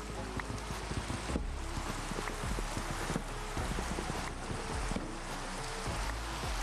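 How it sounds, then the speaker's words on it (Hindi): Rain falling in a Minecraft-style survival game, a dense, even patter with soft thuds and ticks scattered throughout, steady and unbroken from start to end without speech. "भाई बारिश गेम के अंदर हो रही है,"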